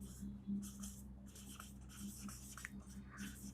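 Pen strokes scratch across paper while maths working is written out, a series of faint, close, scratchy marks coming in short bursts under a low steady hum.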